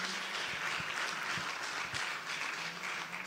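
A large crowd at an awards dinner in Marrakesh, Morocco, applauding steadily, a dense wash of clapping from many hands that holds at an even level throughout.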